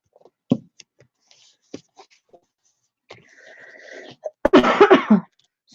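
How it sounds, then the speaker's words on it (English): A person coughs indoors during a relaxed crafting session: a few scattered single coughs, then a louder, harsh burst of coughing near the end, close to the listener. "I'm sick of coughing."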